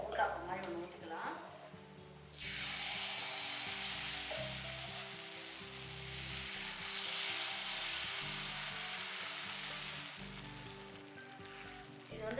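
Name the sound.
uttapam batter sizzling on griddle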